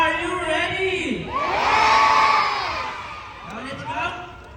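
Crowd of spectators, including children, at a sea lion show, cheering and shouting together in a loud swelling roar that peaks and then fades, with scattered whoops trailing at the end.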